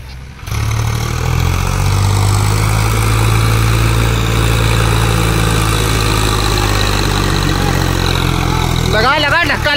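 A tractor engine roars under heavy load trying to pull a stuck trolley, a loud steady low drone throughout with a brief rise at the start and a high whine near the end, voices shouting over it.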